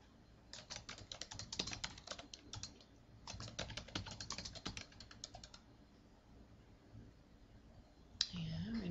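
Close computer keyboard typing fills a quiet room in bursts of rapid clicking keystrokes, with tab presses between form boxes, pausing briefly before a last key and a bit of speech near the end.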